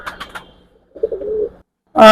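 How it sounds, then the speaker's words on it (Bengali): Pakistani pigeons in a loft give a short, low, rolling coo up close, preceded by a few light chirpy taps and followed by a sudden loud tonal burst at the very end. "অনেক কবুতর আপনি দেখেন"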